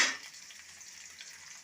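Onion frying in a pan at home for a tempered khichdi breakfast, a brief bright sizzle bursting at the start and then settling into a steady, fainter crackle with no talking.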